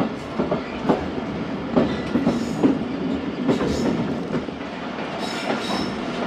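A passenger train pulls into Dariya Khan railway station in hot afternoon sun, wheels clattering over rail joints with a steady rumble and faint squeal, heard from the platform at moderate loudness.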